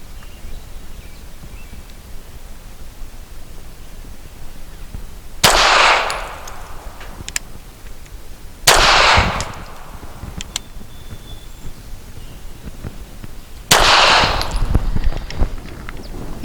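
Grand Power K100D pistol firing PPU subsonic 158 grain rounds outdoors on a range, three sharp reports spaced a few seconds apart, each a loud broadband crack with a short ringing tail over steady background noise.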